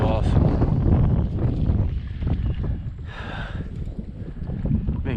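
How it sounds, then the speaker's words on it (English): Strong wind buffeting a microphone during kayak fishing at Pointe Aux Chenes, a loud continuous low roar with gusts, a person talking over it throughout. "Been getting demolished by this wind all day"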